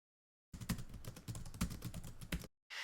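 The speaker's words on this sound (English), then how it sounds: "Now, type this command to hide a folder." Rapid keystrokes patter on a Mac keyboard as a terminal command is typed, a steady run of close, crisp clicks for about two seconds with a couple of heavier presses, then a brief pause.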